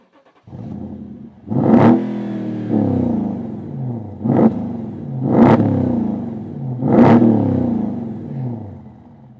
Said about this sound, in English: So you might be interested how the naturally aspirated V8 sounds like, so let's fire it up.